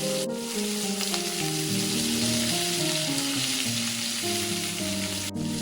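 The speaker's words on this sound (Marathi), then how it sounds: "अजून एक दोन मिनटात प्रॉन्स फ्राय तयार होईल" Prawns fry on a tawa in a constant dense sizzle that holds loud and close the whole time, with a couple of short clicks.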